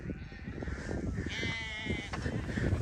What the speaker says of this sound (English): That is a deep meh from a little baby sheep